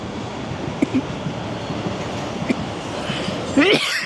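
Light-rail train rolling along Commonwealth Avenue in Boston, a steady mid-distance rumble with faint clicks of the wheels and a brief louder squeal near the end, heard on an open city street.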